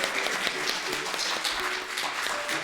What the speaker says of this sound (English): One more clap for the kids in honor.